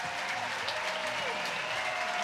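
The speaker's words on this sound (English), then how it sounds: "And he'll get a standing ovation once again from the sellout crowd here at the Condren Ballpark." A sellout crowd at Condren Ballpark rises in a standing ovation during a Tennessee versus Florida college baseball game, a dense, steady wash of applause and cheering with faint whistles and voices carrying through.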